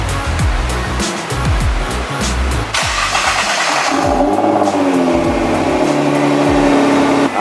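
Nissan GT-R engine starting after an oil change, a loud broadband burst of cranking and firing that settles into a steady, near, rising engine note.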